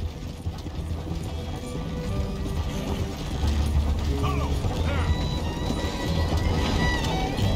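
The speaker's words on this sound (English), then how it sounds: "I know there's two horses pulling that carriage" Two horses pulling a carriage in Red Dead Redemption 2, hooves clopping rapidly amid rattling wheels and creaking mechanisms, a busy, building rumble with some game effects over it.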